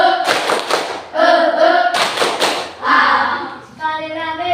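A classroom group does a rhythmic spirit clap: two loud bursts of quick patterned hand claps and thumps, with voices chanting along between the claps.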